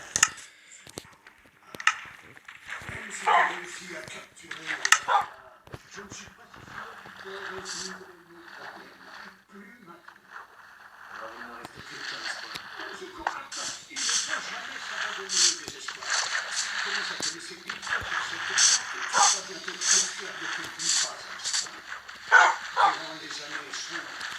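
Dogs bark in a survival-creative video game, with repeated short barks and yips scattered across the clip, some loud and close, mixed with game sound effects and a person talking throughout.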